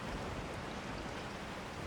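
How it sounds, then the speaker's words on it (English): Nighttime rain in the Resident Evil 4 game pours as a steady, dense hiss of falling water, loud and uniform with no pauses or voices over it. "It's raining."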